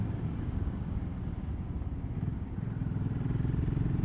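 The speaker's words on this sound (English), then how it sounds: "this is the 650 Rotax engine, which is developed from the original engine from the BMW 650" A BSA Gold Star 650 motorcycle with a fuel-injected 650 Rotax single-cylinder engine runs steadily, a dense, throbbing low-pitched engine drone with wind-like roar, heard continuously from close on the bike.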